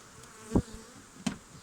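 Honey bees during a honey harvest from hives, a low steady insect drone with two louder buzzing passes as bees fly close by, brief and near, no talking.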